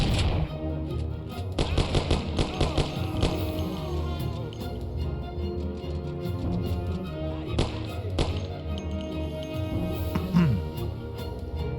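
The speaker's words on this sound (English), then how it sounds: "I keep shooting my own team" Gunfire in the Mafia video game, with clusters of shots and impacts over a dense, busy backdrop of music and game sound, with a few louder bursts standing out.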